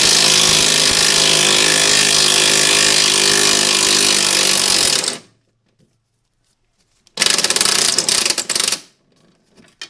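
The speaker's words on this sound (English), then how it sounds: "One, do not use a gun when you tighten these up, but you can use to loosen it." Air impact gun loosening a suspension nut on an R170 Mercedes SLK32, a loud continuous rattling burst for about five seconds, silence, then a second shorter burst.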